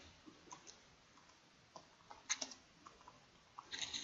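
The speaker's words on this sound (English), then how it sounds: "Click and drag a box, start typing." Light clicks of computer keyboard typing in Adobe InDesign, faint and sparse at first, then a quicker burst of keystrokes near the end, with no voices.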